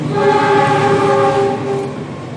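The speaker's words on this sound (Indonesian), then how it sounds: "maaf ada kereta ya teman-teman ya" A train passes close by with a loud sustained horn blast holding steady for about two seconds, then fading slightly, over a rumbling rail noise.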